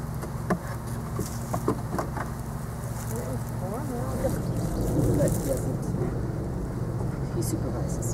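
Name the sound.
honey bees buzzing around a beehive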